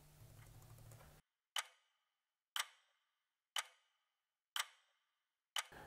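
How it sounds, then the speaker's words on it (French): A wristwatch sound effect for a watch advertisement ticks five times, sharp isolated clicks about one second apart over near-silence, after a short stretch of low background hum. "le tic-tac de la montre qu'on peut entendre"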